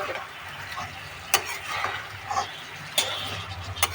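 Fish and drumsticks simmering in a pan over a medium flame, giving a soft steady bubbling sizzle broken by a few sharp clinks of a spoon stirring, fairly close with no talk.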